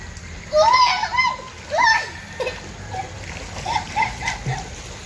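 Water splashing as a child swims in clear water in a rural setting, irregular splashes throughout, with children's voices and an adult speaking over them.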